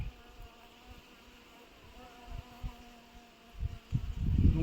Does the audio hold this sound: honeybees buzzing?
yes